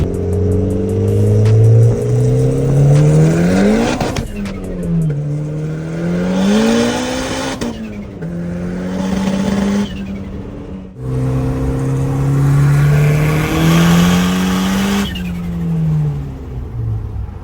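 Turbocharged Honda Civic at a drag strip, running lean on non-ethanol fuel, revving hard in loud, close bursts, each rising in pitch before dropping back, repeated several times with no voices.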